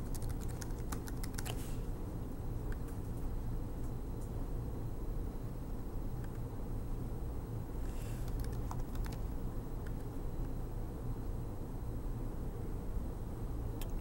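Quiet keystrokes on a computer keyboard as an administrator password is entered, coming in short bursts of rapid typing with pauses between, over a low steady room hum.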